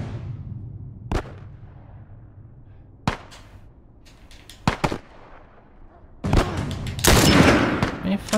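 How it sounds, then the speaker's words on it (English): Gunfire from The Last of Us video game: scattered single sharp shots spaced a few seconds apart, then a denser burst of firing and commotion near the end, with no talk. "Hey, I can shoot now."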